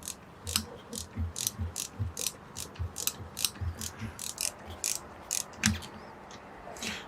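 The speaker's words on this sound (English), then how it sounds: "Give me the ratchet, please." Ratchet wrench clicking in quick, even bursts while loosening a fastener on a Jeep Wrangler tire, close and crisp, with a steady run of ratcheting strokes and brief pauses between them.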